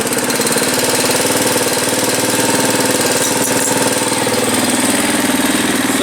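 A TBR7 motorcycle engine idling after being started with no key in the ignition, a loud, steady, close rhythmic putter that runs throughout without talk.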